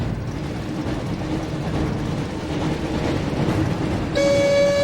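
The Hogwarts Express train in the Harry Potter and the Chamber of Secrets game, a steady rumbling roll of rail noise that ends with a sudden loud horn blast.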